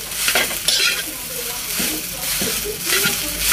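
Backyard eggplant sautéing in a small pan, with quick bursts of scraping and stirring over a lively sizzle, close and fairly loud throughout.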